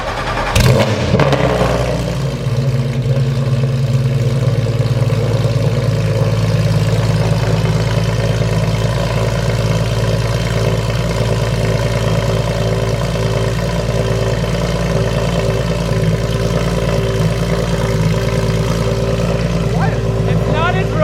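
Porsche GT3 RS engine with straight pipes or nearly open headers, loud and close, a sharp blip at the start settling into a steady, deep, somewhat truck-like idle, with brief voices over it.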